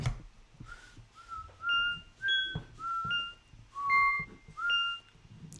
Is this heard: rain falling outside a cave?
no